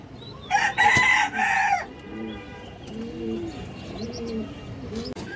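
Domestic pigeons, including a large Army hen, at a Bangladeshi pigeon seller's: a loud, crowing-like call bursts out early, then several soft, rolling coos repeat steadily nearby, with no talking.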